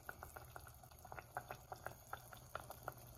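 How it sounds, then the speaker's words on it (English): Parmesan cheese rinds simmer in a pot of broth, faint bubbles popping in a steady irregular rhythm over a low background hum. "So now we have the rinds in the water. They're up to a simmer"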